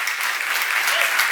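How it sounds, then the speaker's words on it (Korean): Congregation clapping during a church sermon, a dense, steady wash of applause from many hands that fills the whole moment without a break. "박수 한번 쳐봐요."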